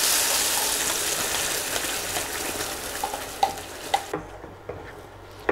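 Masala paste of onion, garlic and cashew frying in oil for an aloo sabzi, a steady dense sizzle with occasional stirring clinks and scrapes near the end; no voices.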